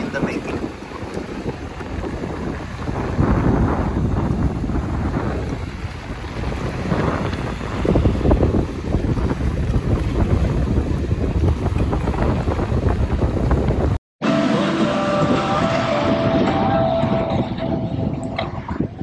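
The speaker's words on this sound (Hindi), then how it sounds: "यहाँ पे हवा बहुत ज़्यादा चल रही है" Strong wind roars against the microphone at Malshej Ghat, a mountain pass, as a loud, steady, buffeting rush that fills the whole stretch, cutting out briefly near the end before resuming.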